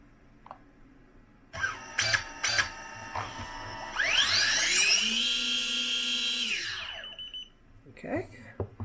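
Motors of a Xiaomi Fimi X8 SE drone on a bench spin up for a takeoff test, a rising whine that climbs steeply, holds loud and steady for a few seconds, then winds down, after several short bursts and with brief voices around it.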